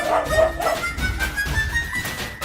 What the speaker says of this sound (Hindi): घर में कितने कुत्ते बिल्ली घुस गए हैं।